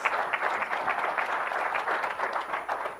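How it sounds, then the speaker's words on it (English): Audience applause at a business conference presentation, a dense, steady patter of many hands clapping for a few seconds. "Let's give him a round of applause."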